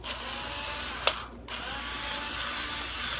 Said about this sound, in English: I'm going to try to just drill this out a little bit.